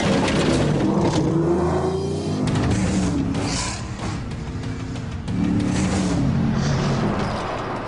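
A Ford F-150 Raptor SVT truck engine driven hard off-road, with loud, sustained rumbling and revving that rises and falls as the throttle changes, close and unbroken.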